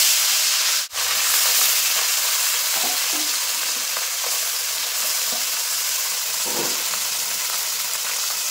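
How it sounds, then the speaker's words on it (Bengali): Small fresh river fish frying in hot oil for a curry with eggplant, a steady close sizzle and hiss running throughout with a brief dropout near the start and light stirring clicks. "এই মাছগুলো লাল লাল করে ভেজে নেব।"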